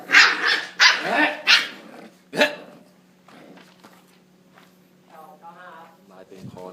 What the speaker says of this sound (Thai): ลูกหมาทะเลาะกันนะครับ